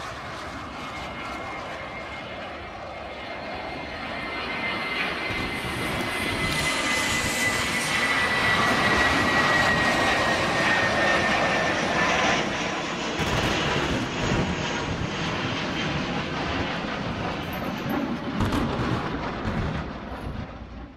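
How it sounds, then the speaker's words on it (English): An airliner taking off, a sustained loud engine roar that swells over several seconds and then holds steady with a high whine fading across the middle, continuous throughout. "Lifeboat Airlines 27B, clear for takeoff"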